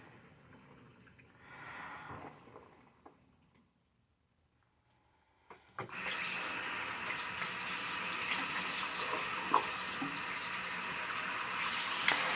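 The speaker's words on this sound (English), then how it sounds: "Now we let the water out. Put some clean water in." Water drains from a bathroom sink used for hand-washing compression socks, with a soft gurgle that fades to near silence before a tap gushes on and refills the basin with a steady, close rushing stream.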